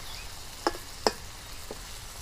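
Stuffed kundru kalonji fries gently over a low flame in a pan as a spatula stirs and turns it. A faint, steady sizzle runs throughout, broken by two sharp utensil clicks and a softer tap, with no talking.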